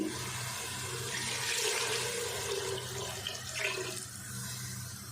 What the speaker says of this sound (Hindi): अब इसमें डाल देंगे 2 गिलास पानी